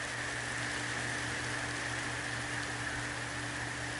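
Steady rain drumming on a roof during outdoor Dutch oven cooking, a constant dense hiss of drops with no pauses and no talk, close and even throughout.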